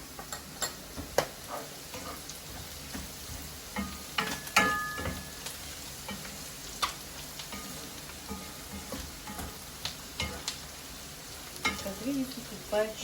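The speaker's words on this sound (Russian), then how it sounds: "процесс обжарки продолжается, грибы тоже жарятся" Onions and mushrooms fry in a pan, with a faint, continuous crackling sizzle broken by scattered clicks and scrapes from stirring.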